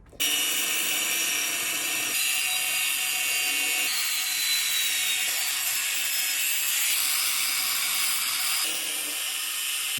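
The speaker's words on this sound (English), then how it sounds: "we're gonna go ahead and take the angle grinder and cutoff wheel, and we're gonna start cutting slits into the metal" An angle grinder with a cutoff wheel cuts slits into metal to notch roll cage tubing for a Pontiac Grand Prix, making a steady, piercing, high whine that shifts pitch slightly as the cut goes on, close and loud with no voices.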